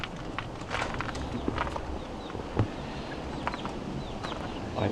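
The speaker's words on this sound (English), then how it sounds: "It's a chicken of some kind, but the weirdest looking chicken I've ever seen." Chickens at a castle attraction cluck softly and intermittently among scattered footsteps and busy outdoor background noise, fairly close but not loud.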